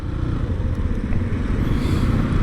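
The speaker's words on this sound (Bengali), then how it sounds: "আজকে আমার সামনে দেখুন ইয়ামাহা ফেজার সেম বাইক নিয়ে যাচ্ছে" A Yamaha FZ motorcycle on a road in Boalkhali, Chittagong, Bangladesh, its engine a steady low rumble that stays close and loud for the whole stretch, with faint road clatter and no talk.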